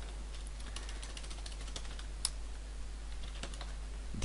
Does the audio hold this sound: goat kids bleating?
no